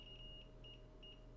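Faint, intermittent high-pitched electronic beeps from a multimeter continuity test on a phone with a partial short, short and broken, over a low steady hum.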